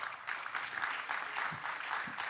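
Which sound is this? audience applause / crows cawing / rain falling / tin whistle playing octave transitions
audience applause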